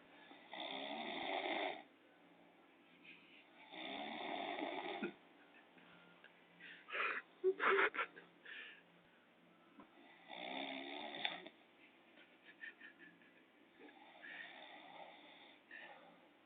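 A man snores loudly nearby in long, rough, rattling breaths roughly every few seconds, with a burst of snorting and shuffling partway through.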